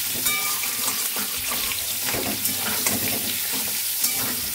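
Boiled potatoes fry in white oil with a constant close crackling sizzle, punctuated by light scrapes and taps as they are stirred in the pan.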